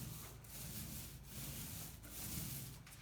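A paint roller spreading top coat across grooved wall paneling gives a steady, soft rubbing swish, close up and continuous, with no talking.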